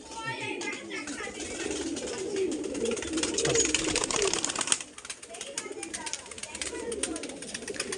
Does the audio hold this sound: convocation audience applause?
no